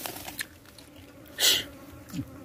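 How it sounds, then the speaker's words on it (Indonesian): Flies buzz past at a riverside, a short close buzz swelling and fading mid-clip with faint insect hum around it. "Karena ini di pinggir sungai sih. lebih banyak lalat."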